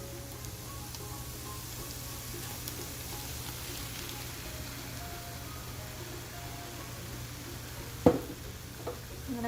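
Ready-made Alfredo sauce sizzles in a pan with sausage and vegetables, a steady faint frying hiss with a low hum, then a brief clink and stir near the end.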